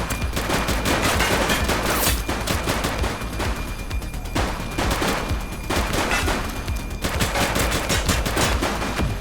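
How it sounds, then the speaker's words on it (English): Gunfire in The Precinct police video game shootout: loud, dense bursts of rapid shots, closely spaced and nearly continuous, with brief gaps between volleys. "Shots fired!"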